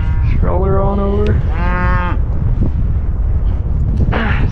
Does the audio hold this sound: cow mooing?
yes